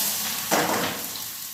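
Hot oil hisses and sizzles, swelling suddenly as mustard seeds and asafoetida are dropped into the pan for tempering, then settling into a steady frying crackle.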